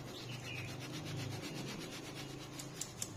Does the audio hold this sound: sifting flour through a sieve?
yes